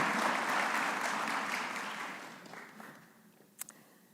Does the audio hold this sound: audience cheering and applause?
yes